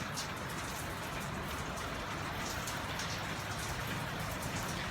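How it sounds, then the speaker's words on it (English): Light rain falling steadily outdoors, a dense continuous patter with occasional wind, even and fairly loud throughout with no voices. "It's raining. I don't know if you can hear that."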